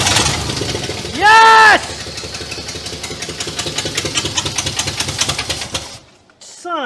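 The engine of an abandoned 1967 Cadillac DeVille cranks and catches, settling into a rough, rapidly pulsing run that sputters and cuts out before firing briefly again. A short electronic chirp is heard, and a voice cheers once.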